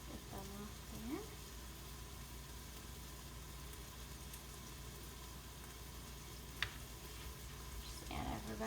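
Onions and herbs land in a pan of browned chicken and sizzle, a faint, steady frying hiss with a brief voice and a sharp clink near the end.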